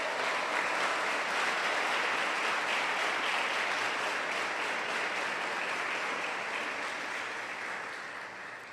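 A church congregation applauds steadily and loudly for almost nine seconds, a dense, sustained wash of clapping that eases slightly toward the end.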